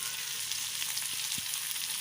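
Onions sautéing in a pan for a restaurant-style basmati rice dish, giving a steady close sizzle and crackle throughout with a couple of brief clinks, no talking.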